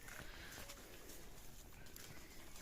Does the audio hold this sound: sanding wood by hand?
no